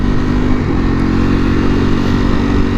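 A Ducati Panigale V4R motorcycle engine roars steadily and loudly while being ridden through a city, a dense continuous drone with no talk over it.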